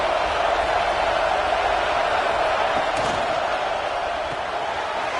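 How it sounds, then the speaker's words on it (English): A packed stadium crowd at a Dukes vs UF football game keeps up a steady, loud roar that fills the whole stretch without letup. "listen to this crowd noise. This stadium is vibrating."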